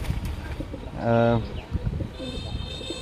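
A male racing pigeon gives one short, low coo up close, surrounded by a person talking nearby.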